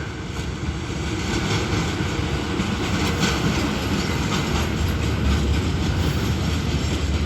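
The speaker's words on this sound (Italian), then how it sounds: "Il treno regionale, proveniente da Piove di Salmo, è diretto a Venezia." A regional train rolls through a station in the Veneto region of Italy with a steady, loud rail rumble and faint rhythmic wheel clatter. No voices are heard over it.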